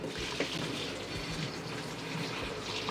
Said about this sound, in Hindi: तो इसको इसके अंदर डाल देते हैं, ऊपर से डालते हैं थोड़ा पानी।